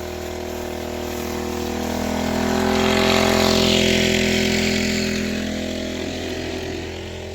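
An ST water pump runs on a farm, a steady droning motor hum with a continuous mechanical whine that swells slightly louder mid-clip, heard up close with no talk.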